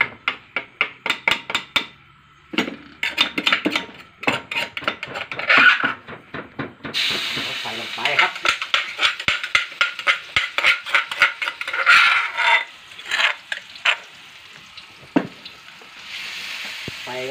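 Pounded chili and garlic stir-fry in a pan over low heat for Thai basil stir-fry, a spatula clacking and scraping in rapid rhythmic strokes over a steady close sizzle.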